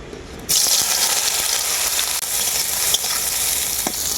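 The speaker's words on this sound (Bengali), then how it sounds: "তেলটা আমার খুব ভালোভাবে গরম হয়ে গেছে সয়া বড়িগুলো আমি ভেজে নেব এখন" Soya chunks frying in hot mustard oil, a loud, steady crackling sizzle that bursts in suddenly after a quiet moment and continues densely with a few sharp pops.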